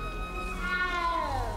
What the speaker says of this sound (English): Meow, where are you, kitty?